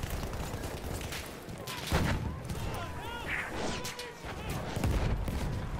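Rapid machine gun bursts from a Battlefield 1 match, dense and continuous gunfire with distant explosions and battle noise throughout, a voice shouting briefly over the chaos.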